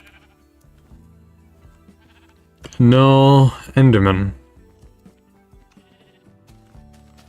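A Minecraft sheep lets out two loud, wavering bleats up close, standing out sharply against quiet game ambience, with a person talking briefly nearby.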